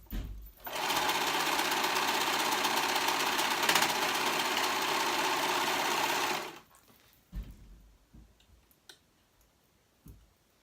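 A serger stitches fabric during construction of a top, a steady loud mechanical whir with rapid ticking that runs continuously for about six seconds, then stops abruptly, leaving faint handling noises.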